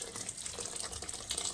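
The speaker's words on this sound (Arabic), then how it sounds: "غادي نزيد الماء" Water pours steadily into a pot while harira soup is being cooked, a soft, continuous splashing gush heard up close and fairly quiet, with no talking.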